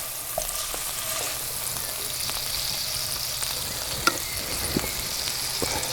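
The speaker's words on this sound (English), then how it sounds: "I will fry the buns just a little bit on the inner side, to get them a little bit crispy as well" Burger buns frying in a skillet over a campfire, giving a steady, close sizzle and crackle with a few sharp pops scattered through.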